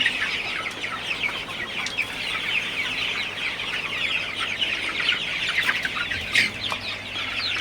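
A dense, continuous chorus of clucking from a flock of broiler and Sonali chickens in a poultry farm during hot, humid weather, with a steady low hum underneath.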